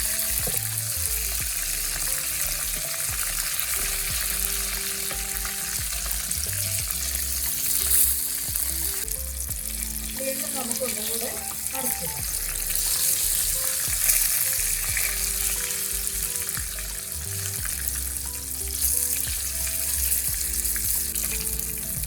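Brinjal slices frying in a pan, a continuous bright sizzle with occasional clatter as the pieces are turned over, steady throughout and without any voices.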